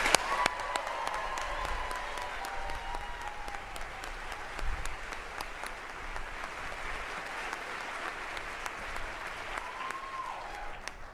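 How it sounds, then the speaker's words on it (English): An audience applauds a new NASA astronaut class with sustained, dense clapping that holds steady for several seconds at moderate distance, rising slightly for a moment before settling. "please join me in giving them another round of applause"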